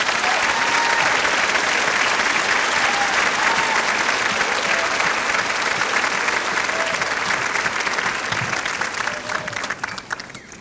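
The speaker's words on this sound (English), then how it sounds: "So if you would give the faculty a round of applause," A commencement audience gives the faculty sustained, loud applause that fills the whole stretch as a dense, even clatter of many hands and fades slightly at the end.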